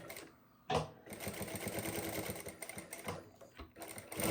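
A Jack A5E computerized industrial sewing machine hums and stitches in a steady rapid rhythm, with a few clunks as it starts and pauses.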